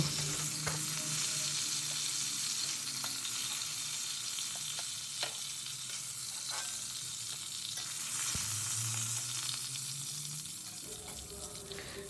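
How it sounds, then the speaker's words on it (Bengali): Pieces of bhetki fish fry lightly in oil with a steady, moderate sizzle, broken by a few soft clinks and scrapes, with no one talking. "এগুলো খুব বেশি কড়া করে ভাজবো না আমি হালকা হালকা করে ভেজে"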